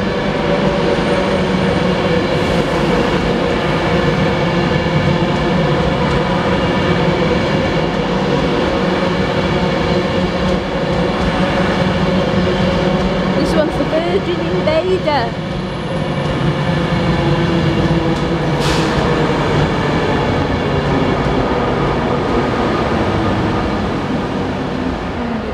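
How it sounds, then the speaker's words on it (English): A train arriving at a station platform rumbles loudly and continuously, its wheels clattering and rails rattling close by, with a brief squeal partway through. "Train now arriving at platform number 3."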